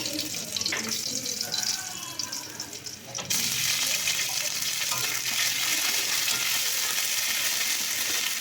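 Ginger-cumin paste drops into hot oil in a wok already holding a whole-cumin and green-chilli tempering. A soft, uneven crackle suddenly jumps into a loud, steady, close sizzle that lasts to the end.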